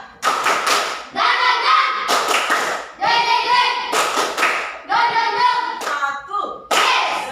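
A school class claps in rhythmic patterned bursts, groups of sharp hand claps separated by children's chanted voices, repeating several times up close in a classroom.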